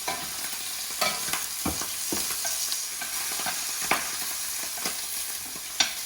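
Bacon chops fry in a pan with a steady, close sizzle, broken by several sharp pops and crackles spread through the stretch, with no voices.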